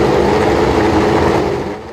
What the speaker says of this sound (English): With the fuel pumps and ignition now switched on, the engine is brought to life.